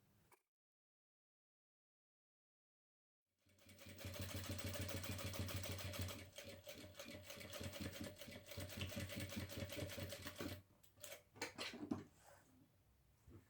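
A sewing machine stitches bias binding onto the edge of a fabric baby backpack. It runs steadily and up close for about seven seconds after a silent start, then stops and starts in a few short bursts.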